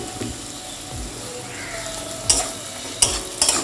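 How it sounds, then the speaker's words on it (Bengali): Garlic frying in oil with chilli powder, turmeric, sugar and flour, a low continuous sizzle with a few sharp spoon clinks against the pan near the end. "হালকা ভাজা প্রায় একটু লাল লাল হয়েছে আমি এখন রসুনটাকে দেব"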